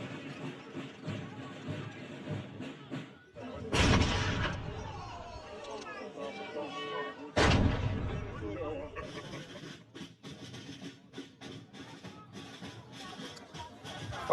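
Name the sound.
artillery firing during changing of the guard ceremony at citadel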